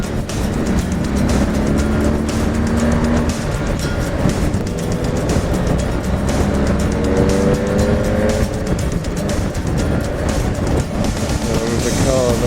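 A car passes on a breezy road during a motorcycle tour near Loch Lomond, its engine drone and tyre noise swelling and fading under constant loud wind rush, with a voice talking over it.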